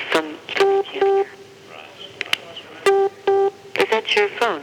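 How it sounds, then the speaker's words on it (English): Mobile phone ringing indoors, a bright repeating electronic ring in short paired bursts, close and loud, with people talking between the rings. "Is that your phone? That's my phone"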